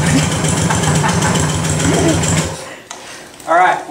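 A Baja Warrior mini bike engine fitted with a torque converter idles loudly with a steady buzzing putter, then cuts out abruptly, followed by a brief quieter revving burst near the end.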